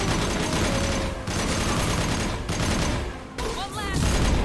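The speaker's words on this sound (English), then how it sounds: "Sniper rifle neutralization." Sniper rifle fire in the video game Mass Effect 2 cracks over a dense, loud battle din of continuous gunfire, with a few abrupt breaks between heavy shots and a voice speaking over it.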